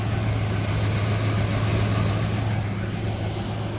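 A Ford Ranger truck with a new Powertorque engine idles steadily and loudly up close, a constant low drone with a faint rapid ticking from an exhaust leak running through it.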